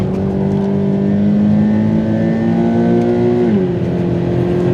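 A Subaru BRZ accelerates hard on a race track, its engine note climbing steadily and loud and close before a brief dip as it shifts, then pulling on again without any talk.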